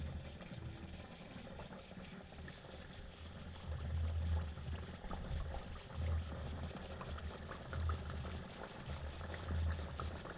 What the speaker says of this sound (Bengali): এগুলি ভাজার জন্য এখানে আমি সাদা তেলকে মিডিয়াম হিট করে নিয়েছি। এরপর এগুলি একটি একটি এখানে ছেড়ে দিচ্ছি